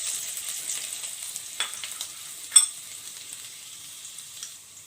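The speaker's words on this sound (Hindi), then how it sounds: "2 टेबलस्पून कुकिंग ऑयल में 2 जवे लहसुन के क्रश किए हुए इनको मैं सौते" Crushed garlic sautéing in two tablespoons of cooking oil, a faint steady sizzle with a few soft stirring clicks, heard alone.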